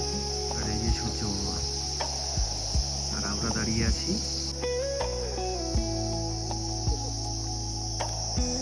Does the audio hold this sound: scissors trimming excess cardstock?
no